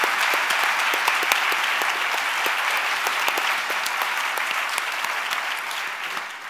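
Audience applause for comedian Martin Short at BookExpo America 2014, loud, dense clapping from a large crowd sustained throughout and tapering slightly at the end.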